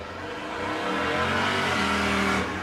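Autocross race car number 17 drives on ice at the Pope County Fairgrounds in Glenwood, Minnesota, its engine revving hard and steadily, loud and close with tire noise and shifting pitch, no talk over it.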